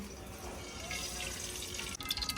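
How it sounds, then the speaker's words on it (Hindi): Cooking oil poured into a karahi for Shinwari chicken karahi, a steady liquid pour with a faint splash near the end. "सबसे पहले हम कढ़ाई में ऑयल डालेंगे।"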